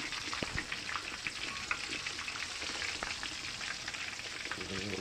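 Catfish pieces deep frying in hot oil, a steady dense sizzle with crackling pops running throughout at close range, no voices over it.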